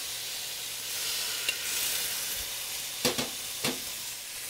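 Shrimp and bok choy sizzle in a hot pan with a steady, bright hiss, punctuated by a few sharp clacks and stirring knocks near the end, with no talking.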